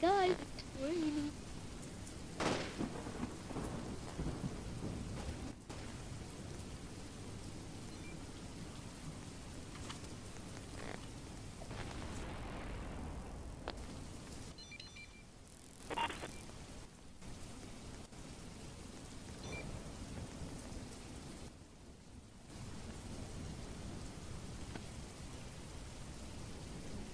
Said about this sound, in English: It's raining, guys, it's raining.